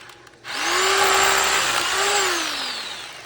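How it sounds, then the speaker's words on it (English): Power drill re-drilling a hole in a concrete slab during DIY lifting and leveling work, a loud steady whine that starts abruptly, holds for about two seconds with a brief pitch dip, then winds down. "Re-drill this hole."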